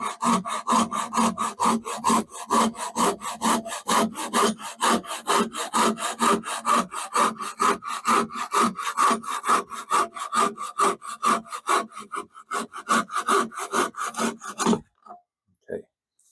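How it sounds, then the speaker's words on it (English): A handsaw works through wood with a fast, even rhythm of rasping strokes, close and loud, for about fifteen seconds. It then stops, leaving a few isolated scrapes in near silence. "bit of sawing action"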